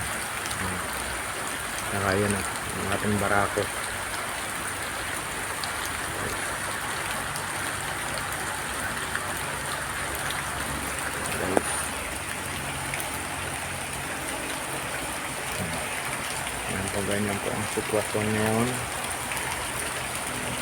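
Steady rain falling outdoors on a wet morning in a farmyard with chickens, a constant hissing patter throughout, while someone talks intermittently over it.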